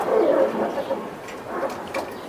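Racing pigeon cooing in a low, soft, throaty burst near the start, followed by quieter murmurs, fairly close with little else audible.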